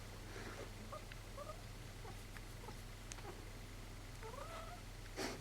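A domestic cat meows several times, short faint chirping calls scattered over a steady low background hum, with no talking.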